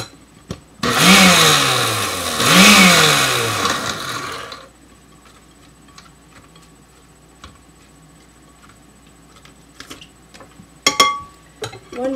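A blender whirls onions for gazpacho in a loud burst lasting several seconds, with rising and falling motor pitch, then stops, followed by quiet kitchen clinks and a few clatters.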